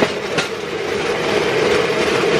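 A train rolls past on rails in a steady, loud, continuous rumble with faint clickety-clack from the wheels, close by and without voices.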